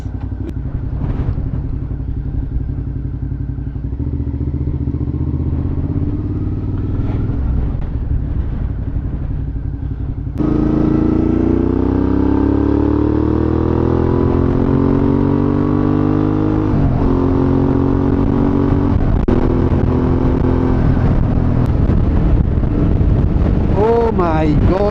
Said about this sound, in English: Oh my god, this wind is unbelievable